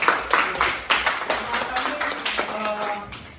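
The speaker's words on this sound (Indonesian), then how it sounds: "Silakan kita beri tepuk tangan." Scattered classroom clapping from a group, uneven and brief, with some voices murmuring underneath.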